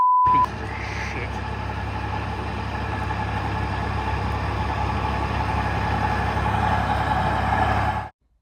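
A Combat Vehicle Reconnaissance (Tracked) light tank engine runs at a steady idle, a constant low rumble with a faint hum, starting abruptly and cutting off after about eight seconds.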